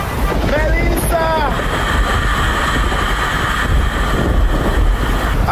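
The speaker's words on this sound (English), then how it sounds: "Water! Water, my side! Look at Melissa!" Hurricane Melissa's wind roars over surging sea water in Jamaica, a loud, constant broadband rush, while people shout excitedly over it near the start.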